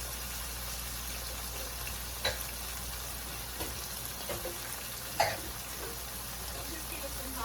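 Hot water pours onto pasta in a cooking pot, a steady broadband rushing hiss that runs throughout, with a few faint clinks and knocks scattered over it.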